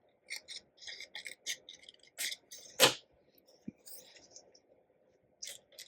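Scissors snip through paper for a card scene-building project, a series of short close crisp cuts in irregular bursts, with one louder sharp snip midway and quiet gaps between.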